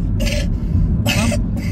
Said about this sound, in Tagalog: yung ubo na walang katapusan